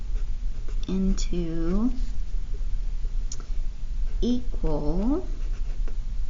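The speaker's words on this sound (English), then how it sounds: "So I'm going to go ahead and write that down" Pen or marker strokes scratch steadily across a writing surface while notes are written, close and continuous, under a speaking voice.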